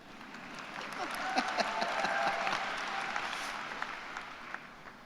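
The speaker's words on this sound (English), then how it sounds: "You can keep clapping." A crowd at a college of engineering undergraduate graduation celebration keeps clapping, a dense, moderately loud wash of applause with scattered sharper claps, fading slightly toward the end.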